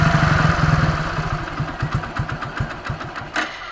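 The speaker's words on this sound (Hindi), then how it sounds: "देखिए ये गाड़ी बंद हो गई।" A motorcycle engine, its carburettor air screw turned fully tight, runs roughly. Its firing pulses slow and stumble until it sputters out and stalls, alone and close.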